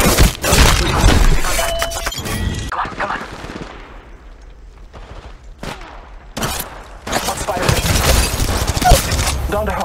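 Rapid automatic gunfire from the Apex Legends Mobile video game, loud bursts at the start, quieter sporadic shots mid-way, then heavy sustained firing again toward the end, with a voice briefly talking over the game.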